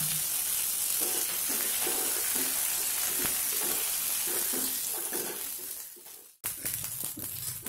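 Garlic sautéing in a pan with tamarind and rock salt for garlic chutney, a steady close sizzle broken by a rhythmic series of soft stirring scrapes, then a brief dropout before the frying hiss returns.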